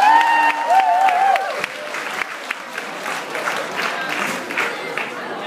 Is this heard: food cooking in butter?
no